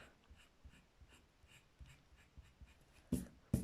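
A pen drawing the letter M on paper, heard as faint, quiet scratching strokes in short bursts with a couple of louder taps near the end.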